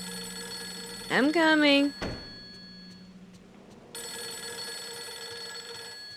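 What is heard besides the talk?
telephone ringing in video game Fatal Frame III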